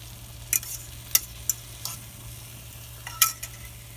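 Eggs and chopped chorizo with onion and pepper cook as an omelette in a pan, with a faint steady sizzle under sharp, intermittent scraping stirs of a utensil, close and without voices.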